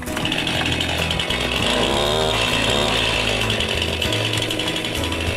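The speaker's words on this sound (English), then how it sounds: "So the deputies are not only learning how to use a chainsaw" A chainsaw runs at full throttle while sheriff's deputies train and clear trails in a nature preserve, a loud, close, continuous engine snarl with slight pitch shifts as it cuts.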